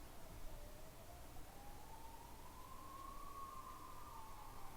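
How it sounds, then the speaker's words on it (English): An ambulance siren wails faintly in the distance, a slow rising and falling tone drifting through a quiet room with a soft hiss beneath it. "Ambulance training again today."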